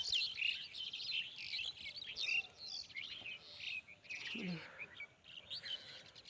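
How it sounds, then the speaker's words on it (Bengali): Repeated bright chirps and tweets fill the clip, several birds, including quail, calling in quick overlapping bursts outdoors, with no voices. "দেখেন পাখি কেস কেস করে"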